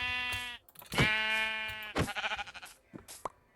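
Sheep bleating in a survival video game, a few separate wavering bleats of varying pitch close by with short pauses between them and no voices.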